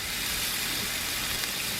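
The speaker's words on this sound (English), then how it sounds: "You hear that sizzle?" Steak sizzles in a screaming hot cast iron pan, a loud continuous hiss of frying that stays steady and even throughout with no talking.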